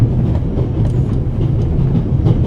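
Steady rumble of a train rolling along rails in a video game, with a continuous low-pitched roar and faint clickety-clack of wheels over track joints, close and unbroken with no talk.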